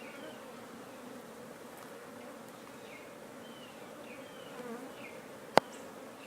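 Honey bees buzz around an open hive during a beekeeping inspection, a steady, dense hum of many insects with individual bees zipping past, with one sharp click near the end.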